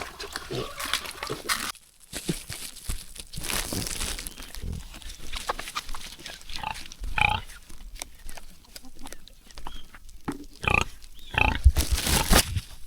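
A boar pig grunts and oinks in short bursts at close range on a farm, with scattered clatter and intermittent louder noises between the calls.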